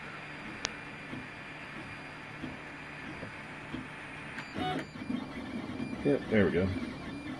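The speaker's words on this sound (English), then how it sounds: "Hopefully this is the last layer before we actually start printing our benchy." An FT-6 dual extruder 3D printer runs nearby with a faint mechanical hum, then its stepper motors whine and squeal in short rising-and-falling bursts; a person speaks briefly.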